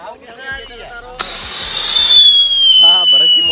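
Firecrackers burst at Diwali in an open outdoor area, a sharp crack followed by a loud hissing, crackling spray that builds over several seconds, with voices talking over the noise.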